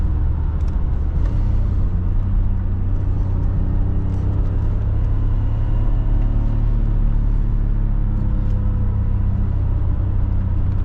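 A 1992 BMW E34 520i with the M50 engine pulls hard while driving, its engine note a steady, loud droning rumble that holds throughout with a constant whir and no voices.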